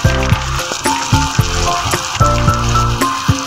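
Tomatoes with spoonfuls of masala spice frying in a pan, a steady loud sizzle with pulsing bursts as the mixture is stirred, close up and with no talking.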